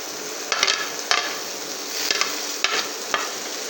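Onions fry in a pan for spicy bhindi, giving a steady close sizzle, and a spoon stirs now and then with a few sharp scraping clicks.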